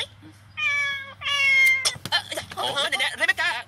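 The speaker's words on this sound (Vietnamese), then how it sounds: "tại vì con mèo của ông chủ nó lại chạy lung tung" A cat meows twice up close, two clear drawn-out calls, followed by people talking over the background.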